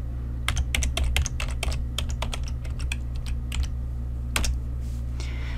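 Fingers type on a computer keyboard entering a file name in Excel VBA, a quick close run of crisp key clicks in bursts with short pauses and a low steady hum beneath, no talk.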